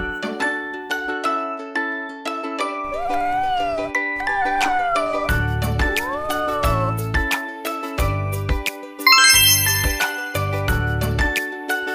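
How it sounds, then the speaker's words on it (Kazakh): A domestic cat gives a few drawn-out, rising and falling meows over a bouncy children's tune with a steady beat. "Мысық."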